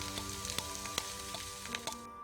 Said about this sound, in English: After that, it's sautéed until golden.